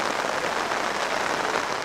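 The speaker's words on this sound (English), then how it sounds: "Not even the heavy downpour could reduce the tempo of the mouth-watering final" Heavy rain pours down during the final of a rugby sevens tournament in Kajiado, a steady, loud, hissing wash with no break and no voices.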